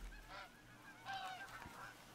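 Ducks quacking in a hunting video game, a few faint honking calls in short bursts over a quiet, steady ambient background.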